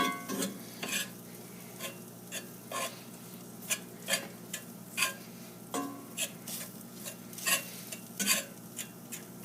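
Sausage and flour stirred in a pan over medium heat for milk sausage gravy, a spoon scraping in repeated strokes over a steady close sizzle of frying, with no talking.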